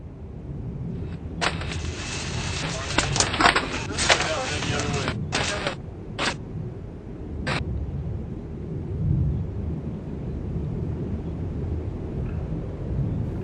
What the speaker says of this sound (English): It's a fairly large cache site. Nice. and it blew up.